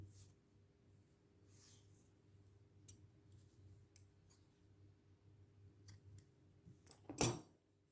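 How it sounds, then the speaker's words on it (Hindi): Scissors snip knitting yarn for sewing up a knitted cap: a few faint clicks and rustles over a low hum, then one sharp, close cut near the end. "अब इसमें से ये धागा गुजार के तो थोड़ा सा लंबा काट लूँगी सिलाई करने के लिए"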